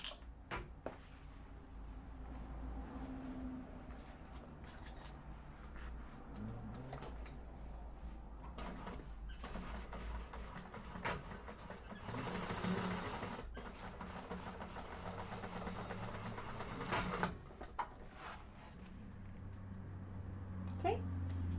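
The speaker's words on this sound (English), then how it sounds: "we're going to top stitch through that base" A sewing machine top-stitching through the base of a hobo bag during a sewing class, a steady mechanical whir that runs throughout at moderate level, with the stitching rhythm swelling in places and brief clicks and thumps from handling the fabric.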